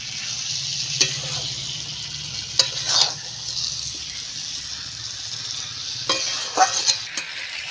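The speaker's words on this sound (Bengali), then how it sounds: "এবার আমি ভেজে রাখা আলুগুলো মশলার উপর দিয়ে দেব দিয়ে একটু নাড়াচাড়া করে" Fried potatoes stirred into a spice mixture in a pan, with a soft, steady sizzle beneath scattered scraping stir strokes that come in short bursts.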